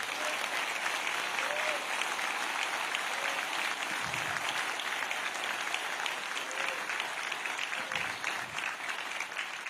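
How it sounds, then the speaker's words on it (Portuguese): A church congregation claps steadily and loudly for about ten seconds, a dense continuous applause with no voices standing out. "Queria uma salva de palmas ao Senhor"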